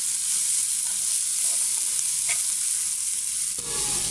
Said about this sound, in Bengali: এই তেলের ভিতরে আমরা পেঁয়াজ দিয়ে দিব, এখানে দিয়ে দেব রসুন কুচি। পেঁয়াজটাকে ভালো করে ভেজে নেব আমরা,